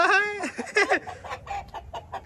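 A hen in Punjab clucks loudly and close by, a few quick harmonic squawks followed by rapid softer clucks, with no talk.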